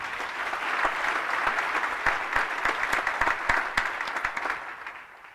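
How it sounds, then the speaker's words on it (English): An audience at an Agrisciences faculty graduation ceremony claps steadily for about five seconds, a dense, even wash of applause that gradually tapers off near the end. "Give them a special round of applause."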